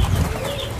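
Caged birds in an Indonesian bird shop give a brief burst of low cooing calls, close by and fairly loud, fading into softer chirps over a little under a second.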